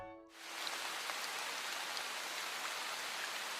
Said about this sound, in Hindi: चलो दोस्तों, बारिश तो होती रहेगी, हम रेनकोट पहनकर चलते हैं।